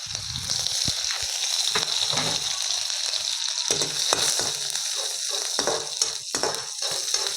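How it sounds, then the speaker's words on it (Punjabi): Finely chopped green chillies and ginger sizzle in hot oil with cumin in a pan, a loud, close, continuous frying crackle broken by intermittent stirring scrapes and clinks, no voices. "ਹਰੀਆਂ ਮਿਰਚਾਂ ਨੂੰ ਤੇ ਅਦਰਕ ਨੂੰ ਆਪਾਂ ਥੋੜਾ ਜਿਹਾ ਭੁੰਨ ਲਾਂਗੇ"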